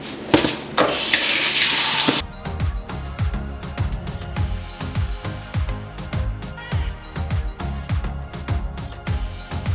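Lentils and rice are rinsed under a kitchen tap, a loud burst of running water lasting about two seconds that then stops, followed by a steady rhythmic beat.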